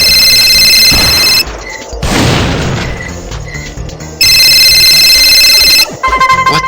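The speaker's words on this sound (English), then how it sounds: "Who the hell is calling this late at night?" A telephone rings late at night in two loud bursts of bright repeated electronic ringing, separated by a lower rumbling thud and a quieter stretch, with another ring starting at the end.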